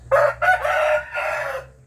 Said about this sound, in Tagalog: meron din tayo dito sa ating mga manok na Brahma